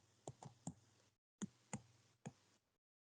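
Light taps on an iPad's on-screen keyboard in the Grid app, six distinct clicks in two quick groups of three separated by a short pause, close and fairly quiet with no voice.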